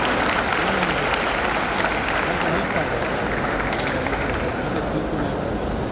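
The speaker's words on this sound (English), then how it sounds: "Let's now welcome with all applause our guest of honor for the day, Dr. Supriya Hegde Aror." A graduation-day audience at a dental college applauds a guest of honor, a dense, loud, continuous wash of clapping from a large crowd throughout.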